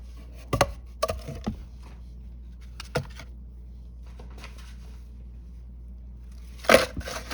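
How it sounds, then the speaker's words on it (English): A hand tool digs a trench in worm bin bedding, giving a few scattered crunchy scrapes and thuds with quiet gaps between them and a sharper burst near the end, close by and with no talk. "So just going to get a trench right here."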